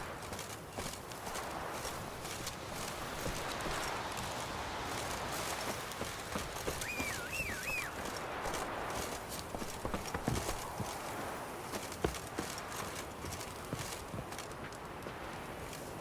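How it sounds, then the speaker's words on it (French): Steady clip-clop of horse hooves at a walking or trotting pace in The Witcher 3, moderately near, with a faint background hiss and no talking. "Allez, mon cheval, Ablette."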